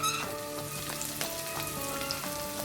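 Onions fry quietly in a pan for Mangalorean usli with rice vermicelli, a soft steady sizzle under scattered light clinks and scrapes of stirring, with no talking.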